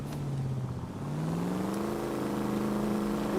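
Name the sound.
Chevrolet Fleetmaster V8 engine revving in LA Noire video game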